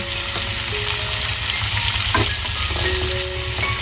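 Beet and carrot pieces fry with salt and turmeric in a pan, a steady close sizzle running throughout with light scraping and stirring.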